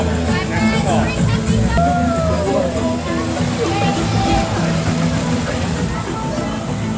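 Water splashes and sloshes at the interactive play fountain of Moana Journey of Water, a steady wet churn with voices and crowd chatter mixed in around it.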